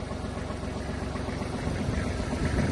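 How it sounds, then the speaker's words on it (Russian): A Kubota GL-29 Japanese mini tractor with a tiller attachment idling smoothly, a steady low chugging drone heard up close with no voices. "Трактор работает мягко, хорошо, приемится, отлично"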